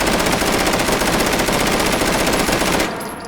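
Loud full-auto bursts from a Russian firearm in the VR game Hot Dogs, Horseshoes and Hand Grenades hammer in a rapid continuous stream for nearly three seconds, then cut off abruptly.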